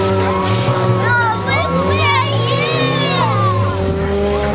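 Demolition derby cars, including car 15 pouring smoke, rev hard and spin their tires at a Bismarck Jaycees derby, a loud, close engine roar with squealing, warbling tire noise and an announcer talking throughout.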